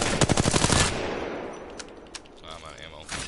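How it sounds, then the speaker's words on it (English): Assault rifle hip-fired in Apex Legends, a rapid burst of sharp automatic gunshots for about a second, followed by a trailing echo and a few fainter mechanical clicks and distant shots. "Now, hip firing also is really good."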